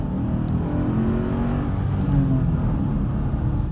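Low, steady engine drone of an RT car pulling hard after a downshift, a broad continuous roar that swells slightly midway and stays loud throughout, with no talking.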